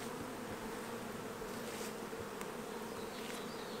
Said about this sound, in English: See all these bees right here? Those are robbers.